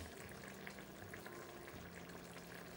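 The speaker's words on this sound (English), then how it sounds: "Add a bit of water and let it boil for a few minutes." Spicy ground beef and pepper sauce with a little added water boiling in a pot, a steady low bubbling and gentle sizzle, quiet and continuous with no voices.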